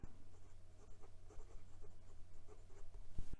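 A broad-nib fountain pen scratches across paper in soft, close strokes, a faint, irregular scritching that continues steadily through the short stretch.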